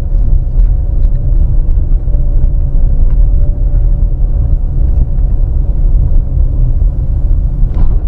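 A Honda CR-V Black Edition, front-wheel drive, labours up a steep incline in first gear, its engine giving a loud, steady, heavy rumble with no break.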